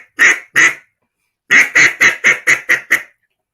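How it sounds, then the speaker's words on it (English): A cut-down duck call sounds a pair of quacks, then after a pause a rapid descending run of six or seven quacks. The call is close, loud and clear, with no voices. "then to make the duck sound"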